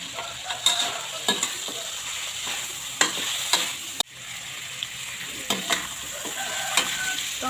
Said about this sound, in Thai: ใส่กระเทียมสับค่ะ